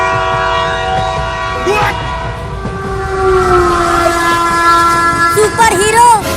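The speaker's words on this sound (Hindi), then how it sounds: "उधर से एक और ट्रेन आ रही है" Cartoon-style train effect of an approaching train: a loud, sustained tonal horn holds steady over a rumbling rail bed, with brief swooping whistle bends near the start and again toward the end.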